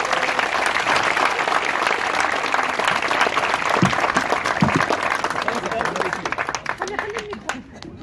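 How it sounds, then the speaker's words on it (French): Crowd applauding at the inauguration of a new basketball court in Zenata, dense sustained clapping with a few sharper individual claps, thinning toward the end; voices mingle underneath. "Applaudissons-les s'il vous plaît très très fort."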